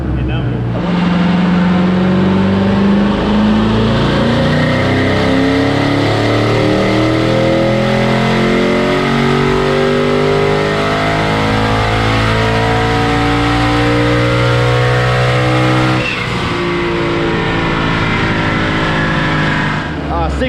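The twin turbo 2017 Ford GT engine pulls on a dyno, a loud, rising roar climbing steadily through the revs for a long sweep before backing off and settling.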